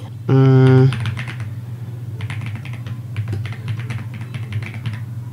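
An email address is typed on a computer keyboard, a quick run of light key clicks in irregular bursts after a short electronic beep, with a low steady hum underneath.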